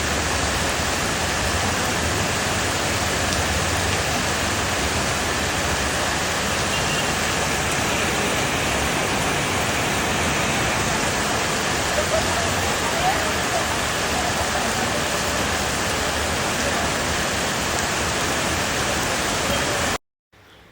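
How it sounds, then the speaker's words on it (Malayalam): Heavy rain with floodwater flowing along roads near Infopark in Kakkanad, a loud, dense, unbroken roar of pouring water that holds steady before cutting off at the end. "ഇത് ഇൻഫോ പാർക്കിൻ്റെ തൊട്ടടുത്തുള്ള റോഡുകളിലൂടെ വെള്ളം ഒഴുകുന്നതാണ്"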